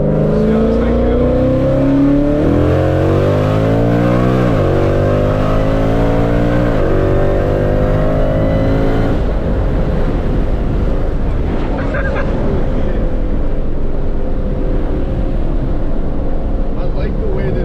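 Ford Mustang Shelby S650 engine pulling hard while driving, loud rising revs climbing through several gear changes, then settling into steady road and wind roar.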